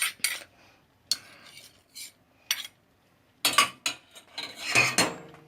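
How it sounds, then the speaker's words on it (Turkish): Metal utensils scrape and clink against a pot after making a Petibör biscuit cake, in short, irregular strokes, with quiet pauses between them. "tencereyi bir daha sıyıracağım"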